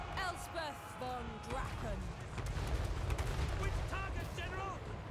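Gunfire crackles in sharp bursts from units in the Total War: Warhammer III video game, scattered reports layered under steady game music and someone talking throughout.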